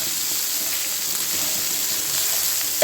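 Steady, bright sizzling of long beans stir-frying in a hot pan, continuous and close, with a faint clink near the end.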